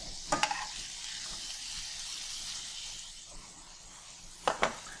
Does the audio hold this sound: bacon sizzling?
yes